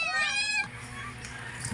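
Cats meow up close while cat food is being prepared on a banana leaf, with one clear, rising meow at the start followed by quieter, softer mews amid faint background noise.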